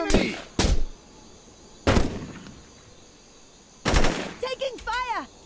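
Gunfire in the tactical game Jagged Alliance: Back in Action, three sharp bursts spaced apart followed by a longer rattling volley, with ricochet-like whines at the end and quiet gaps between shots.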